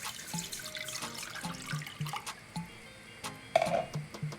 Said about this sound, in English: I'm going to put the water inside of the pot to cook the saltfish